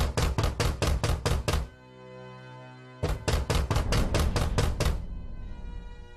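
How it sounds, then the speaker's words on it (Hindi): Loud, rapid knocking on a door in two bursts of about eight heavy raps each, separated by a brief pause with a low rumble. "कोई जोर से उस कमरे का दरवाजा खटखटाने लगा।"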